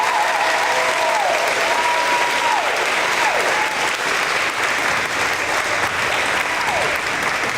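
Sustained applause from an audience at a fifth grade promotion ceremony, a dense even wash of clapping throughout, with a faint whistle-like tone sliding in the background.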